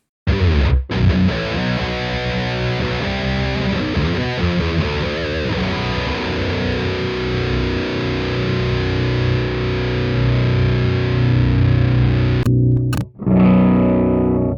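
An electric guitar is played through a Pyro Booster boost pedal in the Axonic amp sim with the drive section off: a sustained, saturated, crunchy tone ringing out loud, with a short gap before the chords resume near the end.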